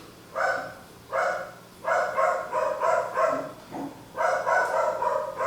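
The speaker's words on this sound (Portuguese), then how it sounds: "Cachorro latindo, mas faz parte" A dog barks repeatedly in bursts of several barks, with short pauses between groups, fairly close and loud in a quiet room, with no talking.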